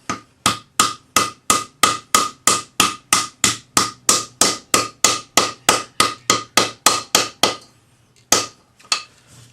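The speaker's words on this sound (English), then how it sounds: "take our bench block, or an anvil if you're lucky, and just hammer that fold flat" A planishing hammer strikes a folded metal cuff flat against a bench block, about twenty loud, ringing blows in a steady rapid rhythm, then a brief pause and two final strikes.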